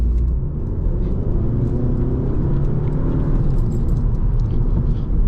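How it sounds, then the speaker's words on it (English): An Audi S3 engine in comfort mode gives a steady, close, low rumble under light throttle from inside the car, without a sharp rise in pitch. "So if I take it out of individual and I put it in comfort, and then let's say I give it some down here"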